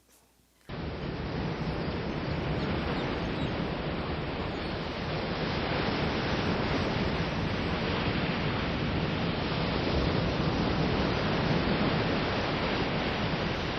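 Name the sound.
ocean waves recording on a subliminal affirmation tape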